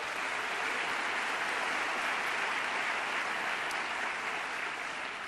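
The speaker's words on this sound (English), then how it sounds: "give them a big round of applause for that" Audience applause at the 2016 Global Entrepreneurship Summit, a large crowd clapping in a dense, even wash that holds steady and loud throughout, with no speech over it.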